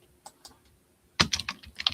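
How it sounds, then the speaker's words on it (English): Quick bursts of typing on a computer keyboard, a few isolated keystrokes followed by a dense, rapid run of clicks, close and fairly loud with no talk. "I was typing good tonight."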